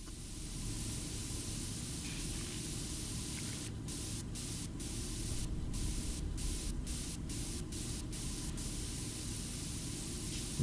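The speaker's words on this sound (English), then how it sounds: "Don't spray it too hard, it might blow up." A pressure washer sprays continuously in PowerWash Simulator while cleaning a Rogal Dorn battle tank, producing a dense, steady roaring hiss with low rumble and brief gaps in the upper spray noise, with no talking.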